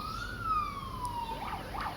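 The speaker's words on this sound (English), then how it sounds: "Pardon the sirens." A wailing emergency siren glides slowly downward, then breaks into quick yelping sweeps, moderately loud over a low background rumble.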